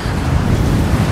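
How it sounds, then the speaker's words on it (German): Strong, roaring wind sweeps across an exposed mountain landscape in the video game Rise of the Tomb Raider, a loud, constant rushing gust with no pauses and no voices. "Dieser Wind ist Wahnsinn."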